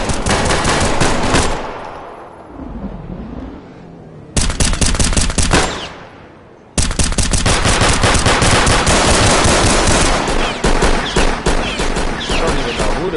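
Guns in the Roblox game South Bronx Trenches fire in dense automatic bursts, rapid loud cracks broken by short pauses and then resuming in long, sustained volleys.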